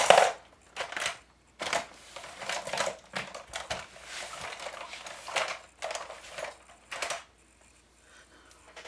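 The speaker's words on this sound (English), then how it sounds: "Scissors." Scissors cut through paper or tape while a card is made: repeated crunchy snips in irregular bursts, close and fairly loud, with short pauses between cuts.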